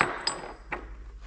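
Two sharp metallic hammer blows, about half a second apart, land on stuck parts of a Krone hay rake. The blows are beaten through old sockets, and each leaves a brief ringing tail over quiet background.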